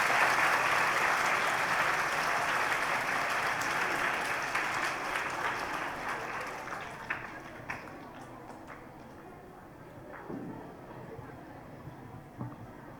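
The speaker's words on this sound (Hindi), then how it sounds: "वेरी गुड, जोरदार तालियां बजनी चाहिए।" An audience applauds at a women's college Independence Day cultural function in Karol Bagh. Dense, vigorous clapping fills the first half, then thins into scattered individual claps and quiet.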